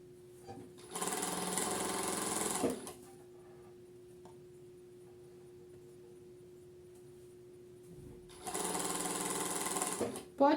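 Sewing machine stitching a zipper into a jacket through three layers of fabric, two close bursts of rapid whirring stitching separated by a quiet pause with a faint steady hum.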